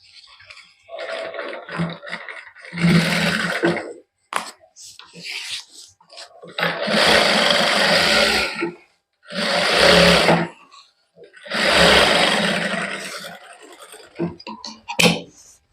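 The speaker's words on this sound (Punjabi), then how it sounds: "ਇਸੇ ਤਰ੍ਹਾਂ ਹੀ ਆਪਾਂ ਹੁਣ ਇੱਧਰ ਸਲਾਈ ਲਾ ਦਾਂਗੇ" A sewing machine stitches golden lace onto a salwar in close, loud bursts of whirring, each lasting a second or two, separated by brief pauses and quieter handling.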